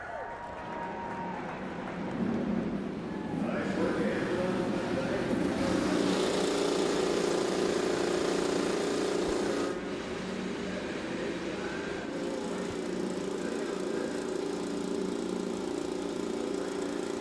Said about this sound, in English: Race engines are running at Indianapolis in May